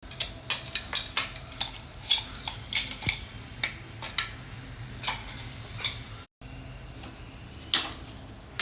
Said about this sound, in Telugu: ఇప్పుడు ఈ పోపు పౌడర్ చేసుకున్న పోపు కలిపేసుకోవడమేనండి.